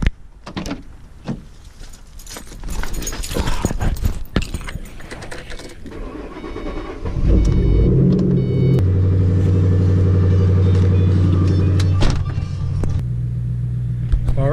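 A Pontiac Grand Prix GXP, first with door and handling clatter, then its engine settling into a steady low idle with a continuous hum that holds through the second half.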